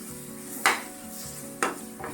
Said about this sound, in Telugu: ఇంకొంచెం ఫ్రై కావాలి ఇంకొంచెం ఫ్రై అయిన తర్వాత దింపేసుకోవాలి